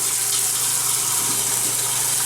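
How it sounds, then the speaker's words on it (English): Cold water streams from a kitchen faucet over freshly cooked seafood pasta in a strainer, a steady, loud, close hiss and splash that runs without a break. "turn on your faucet, have a strainer, make sure it's cold water, and then strain your pasta"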